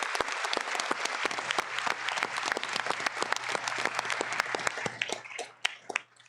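An audience gives sustained applause for the advocates at a First Monday in October legal event: dense, steady clapping from many hands that holds throughout and begins to thin near the end.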